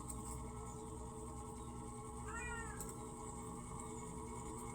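Pet cat giving a single short, faint meow against a steady indoor hum, a brief rising-and-falling cry about midway through, otherwise quiet with no talking.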